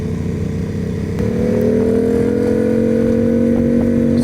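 A Yamaha FZ07 motorcycle engine drones loudly and steadily, then its pitch climbs slowly as it revs up while riding, with a rough mechanical buzz throughout.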